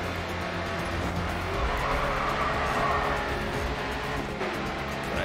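Race car engine roaring steadily through a drift in the racing video game Grid 2, a constant loud drone with faint tire noise and no pauses.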